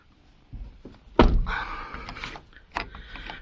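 A Renault Zoe door being locked by hand with its mechanical key, heard as a soft click followed by a louder thunk of the latch mechanism and a few quieter handling knocks, close up with no talking.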